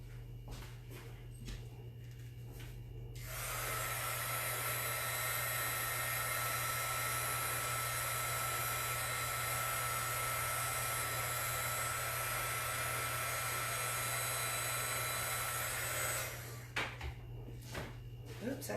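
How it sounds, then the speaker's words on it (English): A heat embossing tool blows hot air in one steady, loud, continuous roar lasting about thirteen seconds, starting and stopping abruptly, with soft handling noises before and after. "it'll take me just a second to get this heat embossed"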